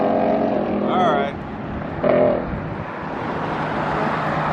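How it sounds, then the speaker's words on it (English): Loud cars drive past on a street outside the Las Vegas Raiders headquarters, a steady roaring traffic rush with a voice talking over it. "Got some loud cars going there."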